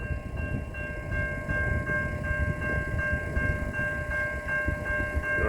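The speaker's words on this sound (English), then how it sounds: "we got a VIA train coming down the line, I think" A VIA or CN train rolls along the line at East Townline Road in Newtonville, Ontario, its steady broadband rumble holding throughout while bright sustained horn-like tones ring over it, near and loud without voices.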